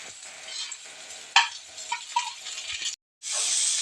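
A spoon scrapes and stirs bitter gourd curry with chopped tomato and turmeric in a hot pan, sizzling softly with a few sharp clinks. A brief silence is followed by a louder, steady hiss of frying.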